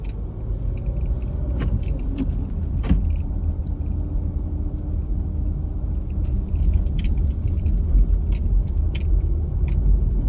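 A car moves slowly along snowy roads, a low steady engine and tyre rumble heard from inside the cabin, with a few faint clicks and small jangles over the drone and no speech.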